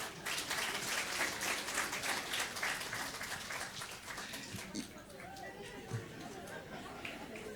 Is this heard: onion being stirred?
no